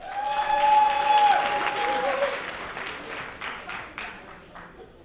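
Wedding reception guests applaud a family member stepping up to speak, a steady round of clapping that swells early and then tapers off, with a sustained tone and a murmur of voices beneath it.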